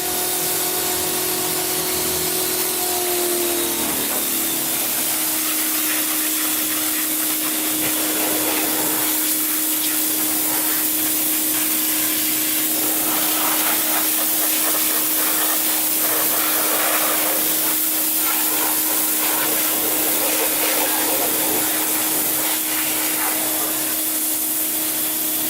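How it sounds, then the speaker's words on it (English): A pressure washer spraying down a Honda 200X three-wheeler, a loud, steady hissing roar of the water jet with a constant pump drone, changing in texture as the spray sweeps across surfaces. "Let's get this thing pressure wash and see if it cleans up a bit."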